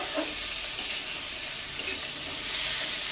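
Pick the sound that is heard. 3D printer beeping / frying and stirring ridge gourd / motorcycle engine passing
frying and stirring ridge gourd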